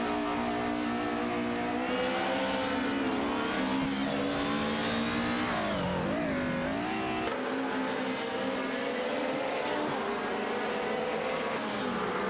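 Race car engines, including a Mercedes 190 Evo, roar continuously in a racing game. The pitch sweeps up and down through gear changes and passes, loud and sustained throughout with no voices.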